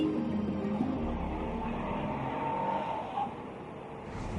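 A 2013 Lexus GS prototype, the 3.5-litre base car on 18-inch wheels with adaptive suspension, drives on a proving ground, giving a steady low engine and road drone throughout, with a slight dip near the end.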